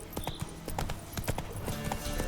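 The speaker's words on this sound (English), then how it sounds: "Alright, so we're gonna canter." A horse cantering in The Witcher video game, rapid rhythmic hoofbeats clip-clopping steadily and close, with a faint bright tone and background game ambience underneath.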